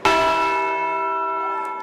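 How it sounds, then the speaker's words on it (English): A single bell at a state capitol in Connecticut strikes once, loud and close, its bright ringing tone sustaining and slowly fading. "symbolic ringing of a bell at the state capitol"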